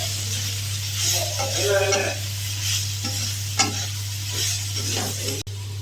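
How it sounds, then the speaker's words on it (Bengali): Steady sizzling of soya chunks frying in a pan with a spatula scraping and stirring, a low constant hum underneath and faint murmuring in the background. "এবার সোয়াবিন গুলো দিয়ে দিচ্ছি, ভেজে নেব ভালো করে"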